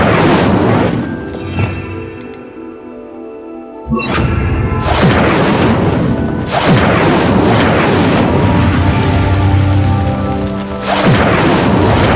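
Incendio fire spell blast in Hogwarts Legacy, a loud booming whoosh that breaks off into a quiet gap, then returns as a sustained roaring crackle with another burst near the end.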